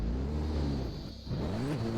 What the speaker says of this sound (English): Oh shoot, the Celica GT4.